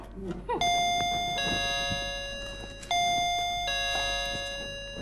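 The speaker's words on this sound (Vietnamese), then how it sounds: "chuông cửa nữa rồi" Electronic doorbell chiming twice in a home during a Vietnamese stage comedy sketch, each ring a bright sustained multi-tone ding-dong that decays slowly, close and loud over faint background noise.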